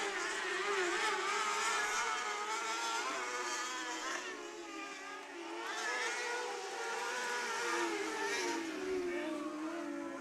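Winged outlaw sprint cars racing on the final lap at Coles County Speedway, a continuous loud high-revving engine roar rising and falling as cars pass, with commentary heard over it.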